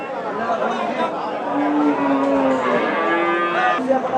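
Cattle moo at a busy Bengali livestock haat where two-tooth Eid sacrifice bulls are being priced, one long low drawn-out moo rising over the murmur of a chattering crowd.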